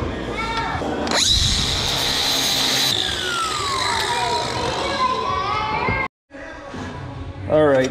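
A power tool grinds while sharpening Cub Cadet ZT2 zero-turn mower blades, a loud continuous whine with shifting screeching pitch, briefly dropping out near the end, with children's voices and talk in the background.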